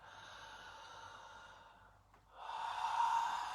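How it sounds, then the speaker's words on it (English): Slow, deep breathing during a guided core breathing exercise, a steady airy exhale that fades into a brief pause before a louder, fuller breath swells in, close and alone. "Now you can swap the breath with the mouth breath, so going a little bit deeper into the mouth breathing."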